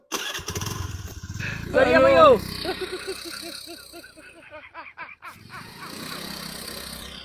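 A motorcycle engine starting and then running, heard amid outdoor chatter, with a rising engine note in the middle that settles into a steady idle as people keep talking nearby.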